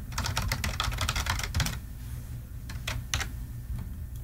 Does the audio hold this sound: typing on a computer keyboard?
yes